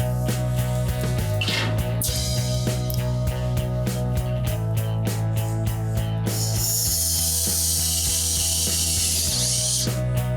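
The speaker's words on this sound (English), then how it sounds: "start putting some set screws in place to hold the rest of the trunk floor in" A power driver runs set screws into the trunk floor of a 1971 Dodge Super Bee, loud steady whirring with rapid ratcheting clicks and pitch shifts between screws, alone and close.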